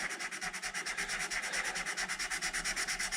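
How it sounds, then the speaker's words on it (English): Hand sanding on the maple of a guitar headstock, a quiet, rapid, even back-and-forth scratching in steady strokes, close and alone. "I'm just sanding right on the maple just to get all the"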